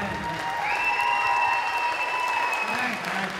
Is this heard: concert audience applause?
yes